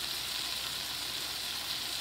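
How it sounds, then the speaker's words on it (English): Meatloaf browns in an electric fry pan, giving a soft, continuous sizzle that stays low and even for a brief moment with no voices. "I flip the meat over to let it brown on the other side"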